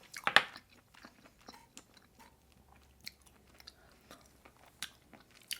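Garlic butter abalone being bitten and chewed up close, a sharp crunchy bite near the start followed by quiet, sporadic wet chewing clicks with no talking.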